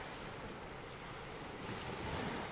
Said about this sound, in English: I'm sitting here by the sea, the ocean actually